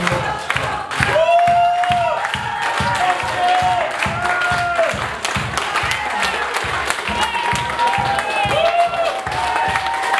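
Wedding guests burst into sustained, loud applause and cheering at a Polish wedding reception, rhythmic clapping filling the room throughout, with voices and a few shouts mixed into the crowd noise.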